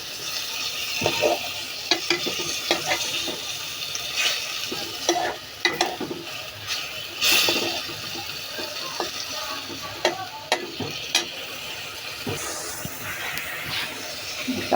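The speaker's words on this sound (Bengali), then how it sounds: "এগুলো ভালো করে কষুক।" Ingredients stir-fried in a pan, including green chilies and broad bean seeds, with a steady loud sizzle and hiss broken by repeated scraping stirs of a spatula throughout.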